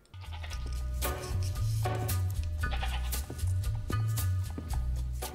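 Loud, continuous bleating from a goat in a Peaky Blinders TV scene, repeated calls running through the whole stretch with strong low tones, close by and without talk.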